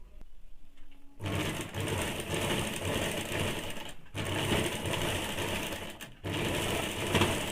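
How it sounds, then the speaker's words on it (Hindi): Sewing machine running double stitching on a high-neck blouse, a steady fast mechanical rattle in three long runs separated by brief pauses, close and alone after a quiet start. "इसको भी डबल सिलाई डालेंगे।"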